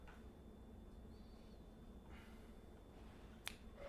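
A single sharp finger snap near the end, preceded by quieter snaps against a steady room hum, made to get someone's attention in a hot room.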